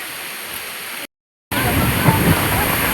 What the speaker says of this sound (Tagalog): Kusog kayong hangin guys